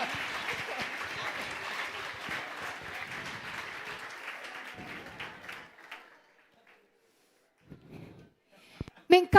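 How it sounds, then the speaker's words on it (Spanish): A congregation applauds during a church sermon. Brisk, dense clapping lasts about five seconds, then thins and stops. Near silence follows, broken by a few faint taps and soft breaths near the end. "Démosle un aplauso para estos."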